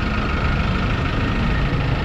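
Engine of a fire department vehicle running while parked on a city street, a steady low idling rumble that stays loud and constant throughout, with no talk over it.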